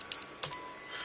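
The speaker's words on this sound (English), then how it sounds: "And now we're going to type in an AM station." Several crisp button presses on a radio's keypad while entering an AM station frequency; four or five quick, close clicks in an uneven rhythm, with a short pause in the middle.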